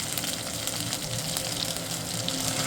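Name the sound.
chili paste frying in earthen pot for egg gravy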